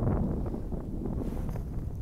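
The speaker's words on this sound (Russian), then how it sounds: "ветер задул" Wind gusts roar against the microphone on a ski lift at a mountain ski resort, a dense, steady low buffeting rush that fills the whole stretch with no pauses.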